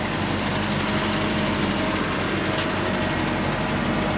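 A pickup truck engine idles steadily after a Nissan fuel pump and gas tank replacement, a loud, even, continuous running drone with no talk over it.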